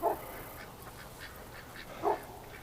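Ducks on a winter outing give two short, moderately loud quacks about two seconds apart over a quiet outdoor background.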